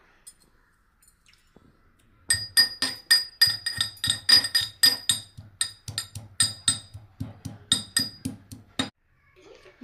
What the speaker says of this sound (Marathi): आता इथे सांबारसाठी मी जो लसूण घेतला होता तो लसूण मी थोडासा कुटून घेते